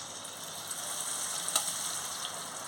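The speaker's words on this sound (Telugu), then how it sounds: "మీడియం ఫ్లేమ్లోనే వేపుకోండి." Potato janthikalu (murukku) fry in oil over a medium flame. A soft, steady sizzle continues throughout with faint crackles.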